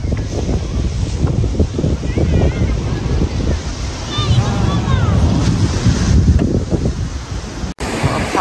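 Ocean waves break on a sandy swimming beach, a constant loud surging wash mixed with heavy wind buffeting on the microphone, with a person talking over it.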